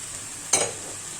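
Minced meat and tomatoes fry in a pan with a steady, bright sizzle, broken by a single sharp burst of spatter as the mixture is stirred.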